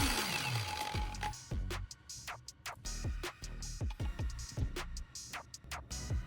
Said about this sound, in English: I'll hold the sandpaper against the spinning DVD on the angle grinder.